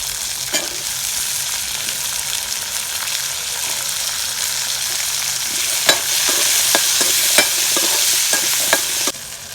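A handful of onions for Brahmi leaf chutney fries in a pan under a steady, bright sizzle, with a series of sharp spoon scrapes and taps toward the end and no talking.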